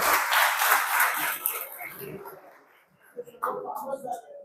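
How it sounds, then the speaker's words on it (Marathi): A crowd claps at a farmers' meeting of an ornamental fish trust in Ratnagiri, a dense, loud burst that thins out after about two seconds, with voices talking over and after it. "सगळ्यांनी त्याकरता टाळ्या वाजवल्या तर खूप चांगलं होईल."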